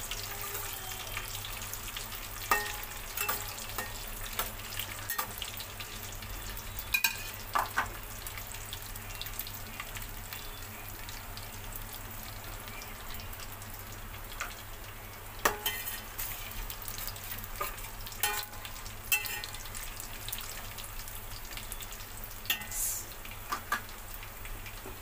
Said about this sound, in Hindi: कंटिन्यू इन्हें स्टिर करते रहना, हमें हिलाते रहना है इसे, वरना हमारे मेवे जल जाएंगे